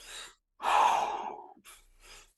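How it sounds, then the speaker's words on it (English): A deep breath drawn fully in during breathwork practice, a long airy inhalation preceded by a short exhale and followed by two softer breaths, close and quiet with no talking. "Breathing fully in."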